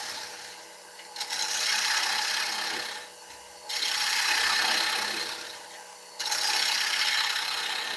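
A woodturning gouge hollows out an ash bowl on a lathe, giving three long, raspy scraping passes separated by short lulls, close and moderately loud with no talking.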